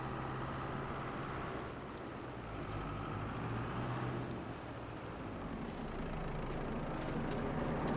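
A truck rumbles along in Farming Simulator 22 with a steady low engine drone throughout, and several short bright hisses near the end like air-brake releases, with no voices.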